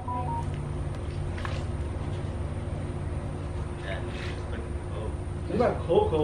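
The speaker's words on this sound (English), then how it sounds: "My phone going off." Electronic phone alert tones chirp near the end amid steady outdoor background noise and people talking nearby, at the EDC Orlando music festival grounds.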